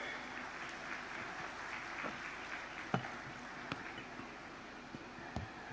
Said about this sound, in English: I request a round of applause for this beautiful session